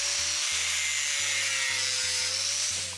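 Chunky self-tapping screws driven into a cleaned car bumper mounting bracket, heard as a loud, continuous whirring drill tone with stepped changes in pitch and a gritty grinding edge, close and steady throughout.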